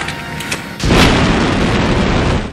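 An explosion from an open gas valve in the 1997 film Breeders: a sudden loud blast that cuts in after a lower noisy lead-in, then a sustained roaring rumble for about two seconds before it stops abruptly.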